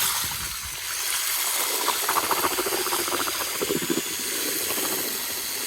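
Color shift paint in red, purple and gold is stirred in a container, producing a soft steady hiss with faint wet patter and light scraping, close and even throughout without speech.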